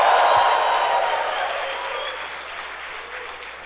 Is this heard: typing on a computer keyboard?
no